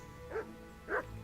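A dog in Kingdom Come: Deliverance gives two short yapping barks about half a second apart, quiet and close, with no talk.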